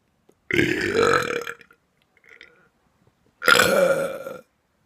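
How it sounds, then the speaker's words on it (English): Two loud, drawn-out burps close to the mic, separated by a short quiet gap with a faint murmur between them. "I got a burp."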